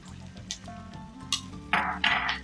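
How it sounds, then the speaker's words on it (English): Chicken ghee roast, Mangalorean style, is stirred lightly in a pan, with soft scraping, low cooking hiss and a few clinks of the utensil, louder scrapes toward the end. "Give this a stir lightly and cook it for another 2 minutes."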